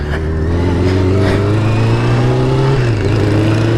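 Steady engine drone of a motorcycle being ridden, a low continuous hum with a slight pitch rise and dip toward the end, loud and close with no talking.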